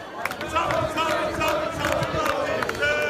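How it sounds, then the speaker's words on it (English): A dense protest crowd in Blackpool shouts and chants continuously, loud and close, with overlapping angry voices and scattered louder yells across the whole stretch. "And in Blackpool, where more fighting erupted in the crowd, their loyalties very clear."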